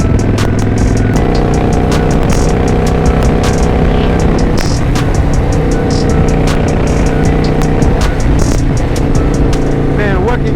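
Steady, loud motorcycle engine drone with shifting revs and wind rush while riding along a back road, continuous throughout.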